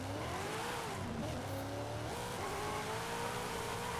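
Car drifting in Forza Horizon 5, a steady loud engine drone with rising and falling revs and faint tire squeal, continuous without talk.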